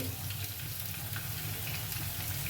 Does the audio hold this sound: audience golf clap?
no